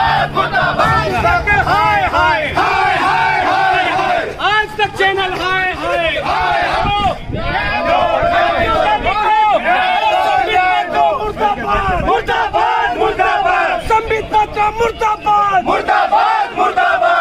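Congress party workers at a sit-in protest chant slogans in unison, a loud, rhythmic crowd roar of repeated shouted calls with overlapping voices and general hubbub.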